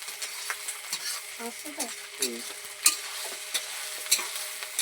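Meat curry being stirred and fried in a village kitchen in the Sundarbans after turmeric powder goes in, with soft scraping stirs and a low sizzle, brief remarks spoken nearby.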